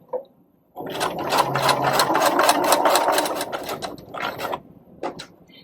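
A sewing machine runs a long basting stitch at its longest stitch length with no reversing, giving a fast, even mechanical chatter that starts after a short pause, runs for about four seconds, then stops with a final brief burst.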